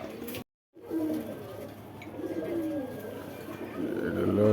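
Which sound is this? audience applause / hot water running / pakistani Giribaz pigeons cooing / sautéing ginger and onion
pakistani Giribaz pigeons cooing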